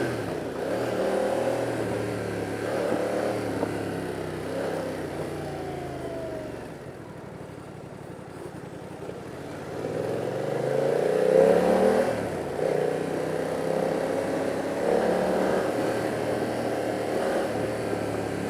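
A BMW F 900 R motorcycle engine under way on a Mumbai road, a continuous droning hum that sags in the middle and then swells again as the bike accelerates, with a rising and falling pitch beneath steady wind rush.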